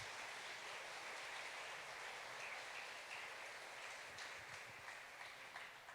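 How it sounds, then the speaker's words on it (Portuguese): A church congregation claps together at a Sunday family service, a dense, steady wash of applause that holds for several seconds at an even level, heard from a distance without speech. "Podemos aplaudir mais uma vez ao nosso Deus."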